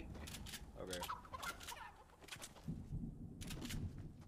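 A chicken in Fortnite clucks and gobbles in a series of repeated bird calls set against steady game background noise.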